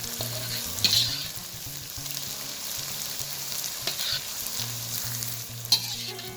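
Thai watermelon rice crackers (khao taen) deep-frying until crispy in hot oil, a dense continuous sizzle and crackle with a few louder pops and stirring scrapes, no speech.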